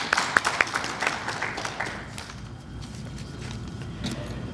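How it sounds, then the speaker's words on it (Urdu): An audience at a book launch claps, starting with scattered sharp claps that soften into a quieter, thinning patter against a low room murmur. "ان کے لیے ذرا زور سے تالی بجا دیجیے آپ لوگ"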